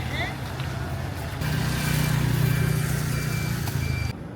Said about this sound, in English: There were also trucks constantly moving goods in and out.